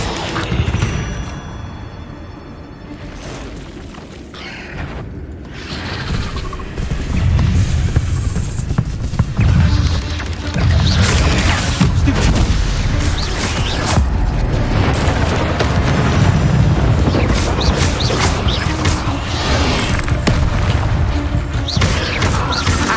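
Incendio fire spell in Hogwarts Legacy, cast during a fight against spiders near a bridge, heard as repeated crackling bursts and heavy impacts over a loud, dense stream of combat noise.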